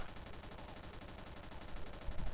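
Rapid, unbroken automatic fire from an AK rifle in the shooter game XSHOT, a fairly quiet, steady rattle of shots lasting the whole stretch.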